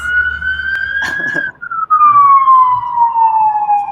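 An emergency vehicle siren passing by outdoors, a loud sustained wail that holds steady, breaks briefly, then falls in pitch as it moves away, with other traffic noise faintly beneath.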